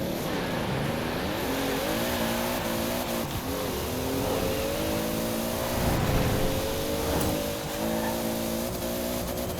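A 1992 Toyota Supra 2.0 GT race car with a 1600 hp grip tune in the racing game Forza Horizon 4, its engine droning and rising through revs, shifting pitch several times with occasional tire noise, loud and continuous with no talk.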